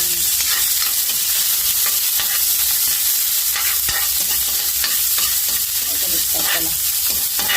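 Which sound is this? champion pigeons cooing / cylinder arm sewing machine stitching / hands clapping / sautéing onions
sautéing onions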